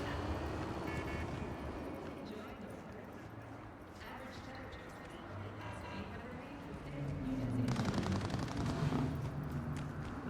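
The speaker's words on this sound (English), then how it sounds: "Now people are just shooting guns." Gunfire from people shooting in a video game, a dense rattling spread through the scene that grows louder and busier near the end, layered over a constant rumbling game background.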